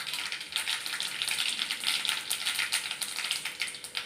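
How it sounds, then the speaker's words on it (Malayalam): Mustard seeds pop in hot coconut oil: a dense, crackling spatter of quick sharp bursts over a hissing sizzle, close and continuous. "കടുക് നല്ലോണം പൊട്ടി വരുന്നുണ്ട് കേട്ടോ"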